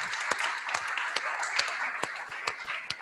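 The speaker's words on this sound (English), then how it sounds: "Let's give her a round of applause." Scattered audience claps fill a ceremony hall as a woman is called forward to receive an award, with sharp individual hand strikes standing out over a steady wash of clapping, moderately loud and close.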